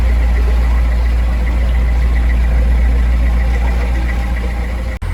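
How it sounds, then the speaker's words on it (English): A loud, steady engine drone with a rough, rattling edge, heard close while passing under a bridge at Norbury Junction, continuous throughout with no voices. "You heard the engine rattling as we went under the bridge."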